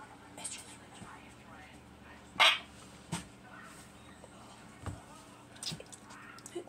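A dog in a home kitchen gives one sharp bark and a few quieter whimpers or yips, scattered through a soft room background with murmured talk.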